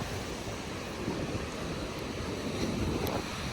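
Ocean surf rolls onto the shore at Huntington Beach, a steady broadband wash mixed with gusty wind noise across the microphone. No voices are heard.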